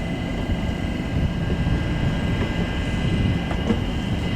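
A train heads out of Cambridge station toward Cambridge North, a loud, continuous rumble of wheels and engine with rhythmic rattling close by.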